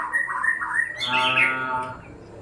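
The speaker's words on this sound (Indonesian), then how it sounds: "inilah murai batu namanya ya mas ya" A white-rumped shama chirps close by, a few bright whistled notes rising into a rich warbling phrase, with a faint low background hum.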